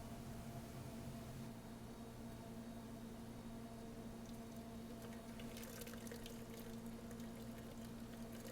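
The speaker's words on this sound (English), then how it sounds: "using a strainer, I'm going to pour the steeped tea into it" Steeped tea pours through a strainer with a continuous watery trickle and faint drips, moderately quiet, with a low background hum and no voices.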